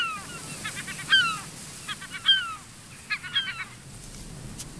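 Corvids in a colony give short repeated calls in several clustered bursts, some harsh and nasal, each group separated by brief pauses, moderately close over a soft noisy background.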